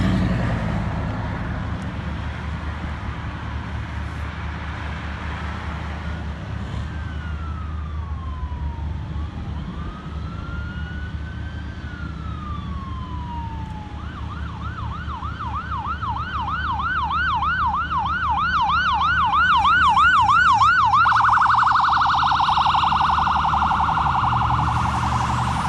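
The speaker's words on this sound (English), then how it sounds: "Oh, here comes an ambulance." An ambulance siren rises out of steady outdoor traffic rumble, sweeping up and down at first, then switching to a fast wail and finally a steady tone as the vehicle draws nearer and louder.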